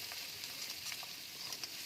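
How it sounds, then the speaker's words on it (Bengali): Fish cooking with chili garlic sauce in a pan gives a continuous, moderately quiet sizzle, with faint stirring scrapes. "চিলি গার্লিক সসটা দিয়ে একটু ভালো করে নাড়াচাড়া করে নিলাম।"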